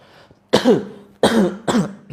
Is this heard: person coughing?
yes